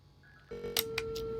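A phone call being dialed in the video game Unheard: a faint ringback tone starts, then holds steady while a few sharp clicks and beeps sound over it, close and quiet, with no voices.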